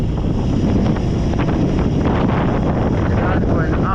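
Strong outdoor wind, gusty enough for an extreme wind test, buffets the microphone hard. It makes a loud, constant low rumbling roar with rough fluttering throughout, with no other sound standing out.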